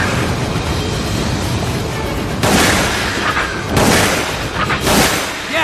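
Heavy gunshots and booming blasts aimed at a monster in Resident Evil: The Umbrella Chronicles, a loud rumbling barrage with three sharper bursts standing out near the end.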